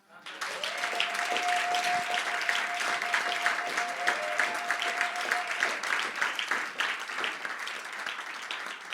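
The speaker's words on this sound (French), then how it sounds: "Est-ce que nous pouvons lui donner une main d'acclamation?" A church congregation breaking into sustained applause, a dense wash of many hands clapping that swells quickly and holds for several seconds, with a faint tone and scattered voices underneath.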